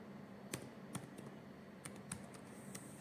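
A computer keyboard being typed on as a pip install command goes in, with sparse, separate key clicks close by and short pauses between them, over a faint background hum.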